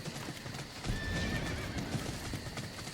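A horse in the video game Ember clip-clops at a steady walking rhythm and lets out a clear whinny, the hoofbeats sounding close and the neigh rising in the middle of the stretch.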